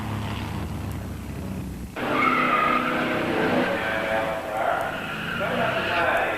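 A muscle car making a hard drag strip run at a 1987 muscle car nationals meet, a loud sustained engine roar with tire squeal that bursts in after a quieter opening, with a commentator talking over it.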